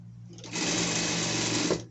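A sewing machine topstitches a seam on a costume piece, one steady close burst of fast mechanical stitching lasting about a second and a half, with no talk.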